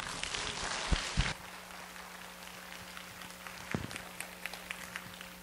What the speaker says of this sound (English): So please welcome her with a big applause.